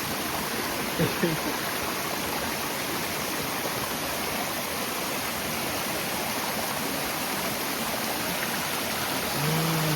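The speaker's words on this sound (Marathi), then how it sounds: "बघा वॉटरफॉल आहे हा. छोटा मोठा वॉटरफॉल." A small waterfall pours steadily nearby, a dense, even wash of rushing water that carries on for the whole stretch with no break.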